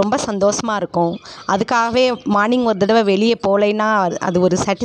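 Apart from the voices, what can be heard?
No everyday noises stand out.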